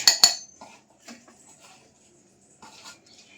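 Metal spoon clinking against a container while scooping gram flour (sattu) for a drink, two sharp bright clinks at the start followed by softer scraping taps, close and alone.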